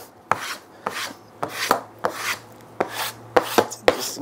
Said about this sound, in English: but I will still use a veneer hammer